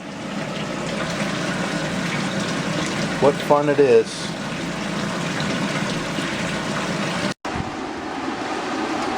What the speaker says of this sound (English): I took this opportunity to go ahead and hose off the entire basement since it was already wet.